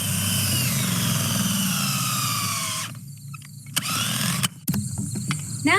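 A power drill drives a sampling probe horizontally into a hay bale, giving a loud steady whirring grind that stops partway through, followed by a few short bursts and clatters.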